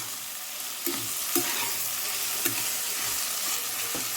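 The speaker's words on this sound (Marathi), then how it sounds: "कोथिंबीर पण फ्राय करून घ्यायची याच्यासोबत एक मिनिट" Coriander leaves fry in a pan for veg pulao, giving a steady bright sizzle with several sharp stirring scrapes spaced through it, close and continuous, with no talking.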